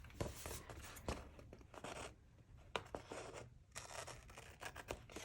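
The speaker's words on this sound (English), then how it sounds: "And then I'll just trim this little edge off here." Scissors snip along the edge of a paper banner for a Plum Paper vertical-column planner, with several quiet, close crisp cuts and paper rustling between them, and no talking.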